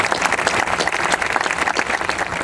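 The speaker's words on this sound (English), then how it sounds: "Let's give them a big round of applause." An audience at a 9/11 monument ceremony applauds, a dense, loud, steady burst of many hands clapping that fills the whole moment.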